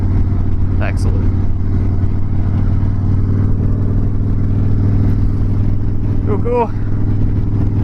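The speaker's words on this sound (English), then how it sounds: "This bike's got a good sound to it. Nice, good rumble." A Harley-Davidson Dyna Wide Glide fitted with a tuner rumbles steadily and loudly from start to finish, a deep continuous engine drone with a few brief voice snippets over it.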